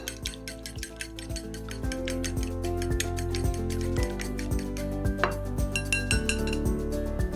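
Ingredients get a quick mix in a bowl while katsu-style catfish is being prepared: a fast, continuous run of utensil clinks against the dish, over rhythmic background music.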